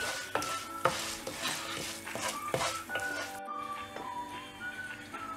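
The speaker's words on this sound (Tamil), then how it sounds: "உளுத்தம் பருப்பு ஃப்ரை ஆகிட்டு இருக்கும்போது இதில் மிளகா ஆட் பண்ணிவிட்டு எண்ணெயிலே ஃப்ரை பண்ணிடலாம்." Urad dal and chilies fry in oil in a pan, giving a soft steady sizzle broken by sharp spoon clinks and stirring taps, with faint background tones.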